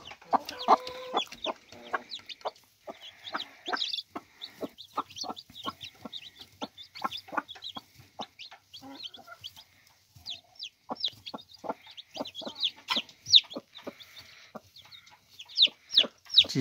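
Newly hatched Gurk chicken chicks cheep repeatedly in high, sharp peeps, close by and busy, with occasional soft clucks and short quiet gaps.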